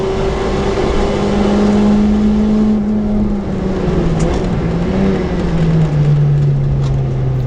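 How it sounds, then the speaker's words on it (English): A race car with a turbocharged B18 engine accelerates on a circuit, a loud, sustained engine drone with climbing pitch through the gears and a brief shift dip, heard alone without talking. "Here's Dave Brew, finally able to put down the power from that turbo B18."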